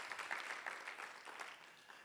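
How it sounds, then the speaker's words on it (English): Faint, steady applause rises from an audience at a climate finance conference on African financial cooperation. Many hands clap in a dense, even patter that gently tapers off, with no voices heard. "I think we deserve a big round of applause as Africans for signing that agreement and ratifying it."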